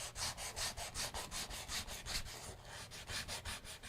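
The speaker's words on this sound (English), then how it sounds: "just take a rag and brush that ebony dust or rosewood dust off" A rag brushes ebony or rosewood dust off a sanded guitar neck in quick, steady back-and-forth strokes, about four per second, each a close, soft swishing rub with no talking.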